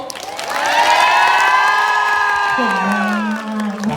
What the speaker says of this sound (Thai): เสียงปรบมือและมีเสียงแบบว่าโห่ร้องออกมา